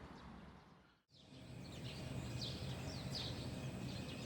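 Birds sing at dawn around 6:30 in Jeju, faint and distant chirps repeating over a quiet outdoor hiss, with a brief dropout near the start.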